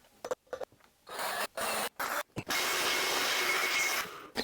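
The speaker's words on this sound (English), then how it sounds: "I'm going to drill a pilot hole for each one of the screws on this side" Short bursts of a small drill boring pilot holes into the wooden body of a 2006 Squier Stratocaster Affinity guitar, ending in one longer steady grind, close and fairly quiet with pauses between.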